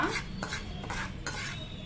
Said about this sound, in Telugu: వేగుతుందండి నూక